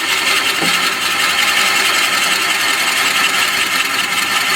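A wood lathe spins a juniper vase blank at about 300 RPM, giving a loud steady motor whir and hum that runs unbroken throughout with no speech.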